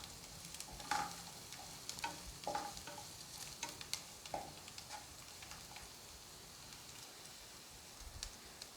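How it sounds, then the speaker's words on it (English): Finely chopped garlic sautés in a pan for a homemade tomato sauce, a soft, low sizzle with frequent scraping and tapping as it is stirred constantly, fairly faint and without voices. "Add in my finely chopped garlic now and allow it to saute for 30 seconds more. Stirring constantly."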